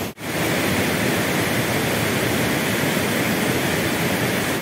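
A swollen Sewa river rushes past with a dense, roaring broadband wash, loud and constant after a brief dip at the start, with no voices.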